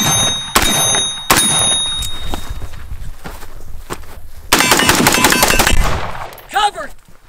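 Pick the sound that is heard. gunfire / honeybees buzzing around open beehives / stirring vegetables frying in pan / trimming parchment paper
gunfire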